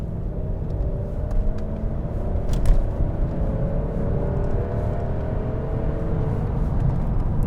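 The V8 engine of a 1999 Mercedes-Benz S-Class W220 fitted with K&N air filter elements hums as a low, smooth rumble while cruising, steady and moderately loud from inside the car, with no talk.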